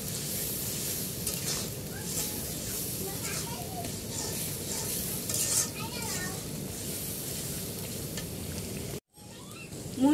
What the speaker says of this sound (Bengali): মরিচের গুঁড়া, দিয়ে এখন মশলাগুলো ভালো করে কষিয়ে নিব।